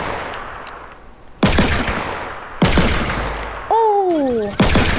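Shotgun blasts in the Fortnite video game, playground team deathmatch mode: four loud, sharp booms spaced about a second apart, with a brief rising-and-falling electronic game tone between the last two and faint background noise throughout.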